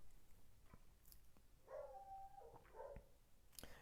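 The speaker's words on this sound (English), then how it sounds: "the dog is right outside the window, barking up a storm" A dog barks up a storm right outside a window, a few muffled, distant-sounding barks in the middle of the stretch over a steady background hiss, with no talking.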